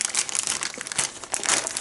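Close, steady crinkling and crumpling of plastic shrink wrap being pulled off a Warhammer 40K 9th Edition box set, a continuous rustle with brief louder tearing bursts.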